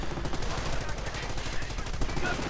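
Rapid, sustained autocannon and machine-gun fire from a Puma armoured vehicle in a real-time strategy war game, dense, loud and continuous throughout.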